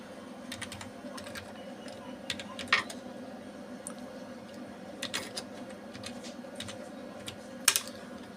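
Computer keyboard keys tapped in short irregular bursts, close and fairly quiet, while a reference number is entered over a steady low background hum.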